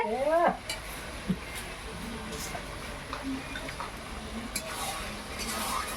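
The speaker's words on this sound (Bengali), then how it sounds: "বৌদি বেগুনি ভাজছে।" Battered eggplant fritters fry in oil, a low steady sizzle with occasional ladle clinks and stirring scrapes, set in a lively village kitchen with voices and background activity.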